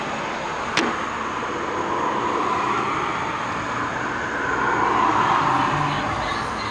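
Cars pass by on a nearby road in a steady broadband rush that swells and fades, with a brief sharp click early on, outdoors beside a Buick being worked on.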